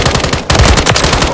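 Rapid automatic gunfire in Call of Duty: Modern Warfare, loud and close, with dense bursts of shots that grow heavier after a brief lull, and no talking.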